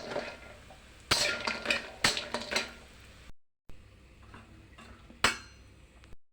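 Fried lentil badi are lifted out of a pan of hot oil with metal utensils, giving sharp scattered clinks and scrapes with short pauses between them, close and fairly quiet.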